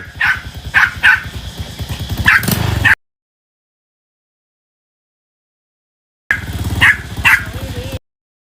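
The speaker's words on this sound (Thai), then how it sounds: "ไอ้ปุ้ยอะขึ้นแล้วปุ๊บจะต้องเห่าทำไม" A dog at a home barks loudly and close up in quick, sharp bursts. A run of barks is followed by a stretch of silence, then another short volley of yaps.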